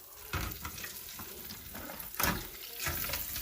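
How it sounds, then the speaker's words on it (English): Chicken wings fry in hot oil, giving a steady, bubbling sizzle with a few louder splashy bursts as pieces go in. "we'll drop them down in the oil there and let them cook"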